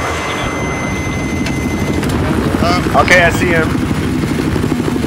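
A helicopter flies in a shooter video game on a Shanghai map, a steady rotor and engine drone under overlapping voices of players talking.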